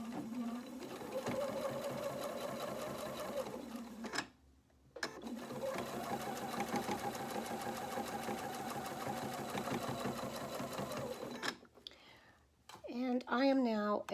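Sewing machine stitching a quarter-inch seam on a polo shirt with a quarter-inch foot, running in two long steady bursts separated by a brief pause, then a short back-stitch burst near the end, close and continuous.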